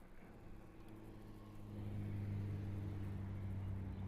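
A Subaru car passing on a town street, its engine hum and tyre noise swelling from faint to a steady close whir over a few seconds, with no talking.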